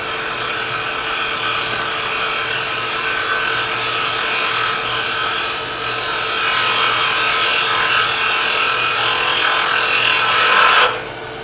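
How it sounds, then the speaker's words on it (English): A skew chisel shaving a small wood piece spinning on a lathe, a loud continuous high whirring hiss held steady for about eleven seconds before cutting off. "I'm going to take my skew chisel and just take a little mass off of here and make it a little thinner."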